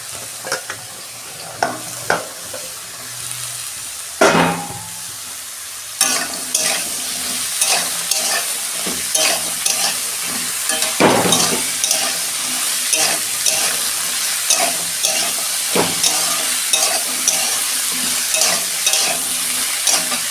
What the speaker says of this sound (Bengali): বেগুন, আলু, গাজর সব একসঙ্গে দিয়ে ভেজে নিচ্ছি।